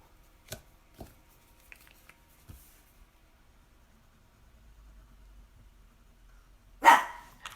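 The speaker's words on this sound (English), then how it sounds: "It's not Saturday if the dogs aren't barking." A dog barks once, loud and sharp, near the end after a quiet stretch with a few faint taps and thumps.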